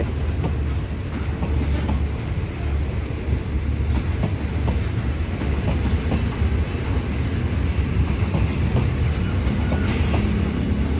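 A Thai passenger train rolls past at close range, with a steady loud rumble of wheels and rhythmic clicks over rail joints throughout, and no voices.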